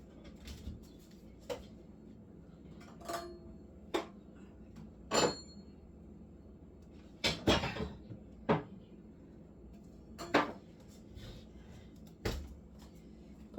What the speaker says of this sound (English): Put my pans away.